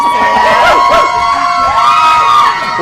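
Studio audience at a talk show erupts in loud cheering, whooping and shouting, a close, dense wall of excited voices that surges and holds for a few seconds.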